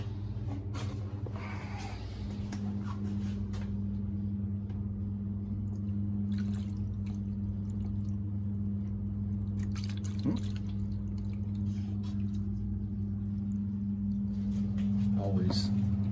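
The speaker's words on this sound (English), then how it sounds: "And I'm gonna flush it with some water." Water is flushed through the condensate drain line of a small AC unit, giving faint dripping and trickling under a steady low mechanical hum, with speech mixed in.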